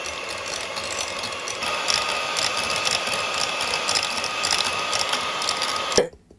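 Electric mixer whipping homemade vegan cream with powdered sugar, a steady whirring mechanical drone that runs evenly for several seconds and then stops abruptly.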